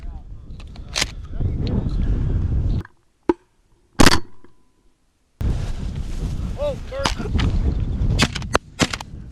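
Shotgun blasts during a pheasant hunt in a Kansas field, a few sharp, loud reports breaking through wind and rustling, with people talking nearby.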